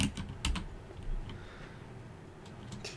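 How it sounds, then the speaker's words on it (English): Quick clusters of key clicks from typing on a computer keyboard, faint and close, coming in short bursts with pauses in between and no talking. "it'd probably help if I typed in from Durandal"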